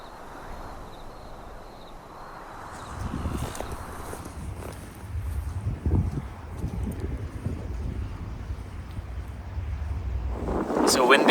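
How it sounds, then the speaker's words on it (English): Strong wind gusts roar and buffet on an exposed stretch of the Shetland Islands, a continuous rushing broadband noise that swells in the second half. There are some scuffing sounds that may be footsteps. "It's a windy one."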